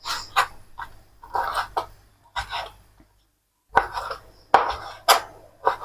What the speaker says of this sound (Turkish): Bunları da böyle küçük küçük doğruyorum.